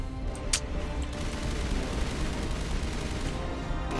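Sustained gunfire from several guns aimed at a Geth dropship in Mass Effect Legendary Edition, a dense, continuous rattle of shots with one sharper burst near the start and no pauses.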